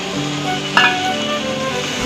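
Cashew and almond paste added to a hot pan with turmeric, chili powder and ginger paste, a steady low sizzle with one brief sharp crackle as it goes in.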